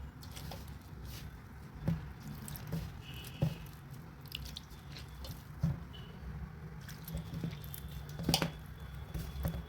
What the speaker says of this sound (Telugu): అంత వాటర్ పోసుకొని పిండి కలుపుకోవాలి.